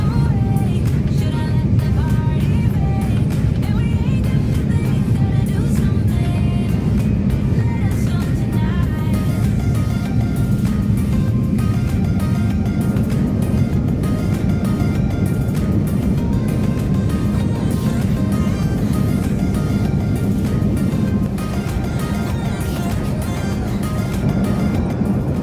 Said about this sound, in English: the whale-like sound the engine produces that makes takeoff nearly silent and relaxing